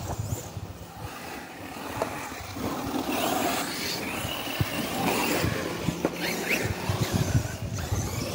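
An Arrma RC car motor whirring and churning as the car drives through water, a continuous noisy drone with surging revs and scattered splashy crackles, fairly close.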